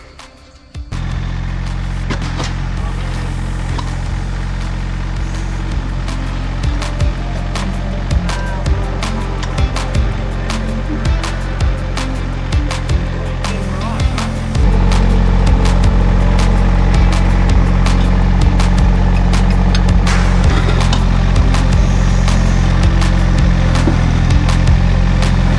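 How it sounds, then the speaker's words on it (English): A Massey Ferguson tractor with a backhoe attached runs steadily nearby, a loud, constant diesel engine drone that grows louder and heavier partway through, with occasional clanks and no talk. "got the backhoe back on the Massey. And we're gonna dig that baby out."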